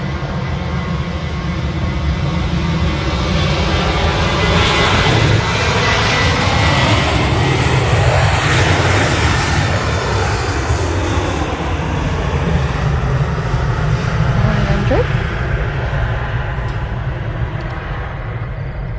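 Ryanair Boeing 737 jet departing Manchester Airport, a loud sustained engine roar that builds and sweeps past with a shifting whine, then slowly fades.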